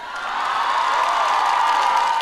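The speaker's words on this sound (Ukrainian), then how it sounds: "Найбільше ви аплодували" Outdoor karaoke audience at a town square applauding steadily, a dense wash of clapping with some crowd noise, sustained and fairly loud throughout.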